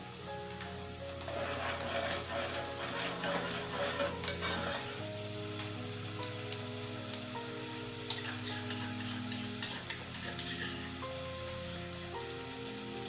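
Garlic and ground chillies frying in hot oil for curry pakora, a steady close sizzle with soft crackles and occasional stirring, no talking.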